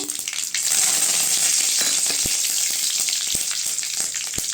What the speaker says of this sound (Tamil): எண்ணெய் நல்லா காஞ்சதும் கடுகு போட்டுக்கலாங்க இப்போ கருவேப்பிலை சேர்த்துக்கலாங்க